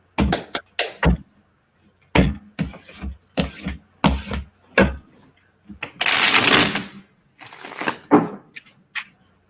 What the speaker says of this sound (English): Sorry for the shuffle noise